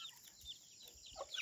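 Chickens cluck faintly around a rural village home in Nepal, with soft, short calls scattered through the quiet background and no one talking.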